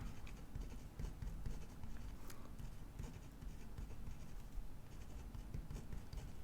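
A pen scratches across the paper of a Classic Happy Planner in soft, close strokes, a quiet continuous scribbling with small pauses, no talking.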